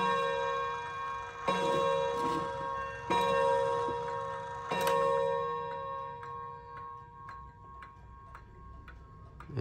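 A Japanese long-case pendulum wall clock, 54 cm tall with a brass gong, ticks steadily at close range. Occasional louder strikes ring out with a sustained metallic tone that slowly fades beneath the ticking.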